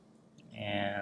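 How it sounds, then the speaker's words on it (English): Four drive motors of a rover robot, run by an Arduino and two RoboClaw controllers, spinning up after a click and settling into a steady whirring hum. "There are the motors going again."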